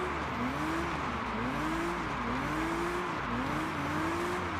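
In a racing game, a Toyota Supra MK4 drifts around a monument roundabout, engine revving in repeated wavering surges over constant tire roar, loud and close throughout.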